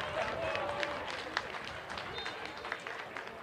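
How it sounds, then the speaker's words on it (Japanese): Stands at Yamato Nadeshiko Stadium applaud after an equalizing goal from a late corner kick in a 2021 Nadeshiko League women's football match, a faint, distant, steady rumble of clapping with a few sharper claps, under a commentator's talk. "メインスタンドからも大きな拍手です。"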